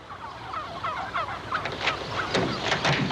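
A flock of turkeys gobbles in a noisy, overlapping chorus of honking, warbling calls that grows busier toward the end, in an old 1963 television soundtrack.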